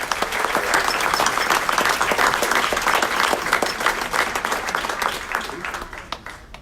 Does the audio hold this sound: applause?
yes